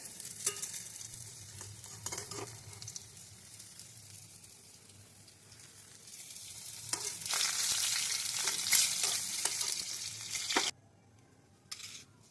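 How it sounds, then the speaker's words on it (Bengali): Topse fish in gram flour batter frying in hot oil makes a continuous, fairly loud crackling sizzle with a few stirring clatters, swelling in the middle before cutting off abruptly near the end. "দেখুন তোপসে ফ্রাই করে নিলাম"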